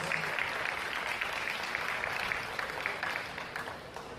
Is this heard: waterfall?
no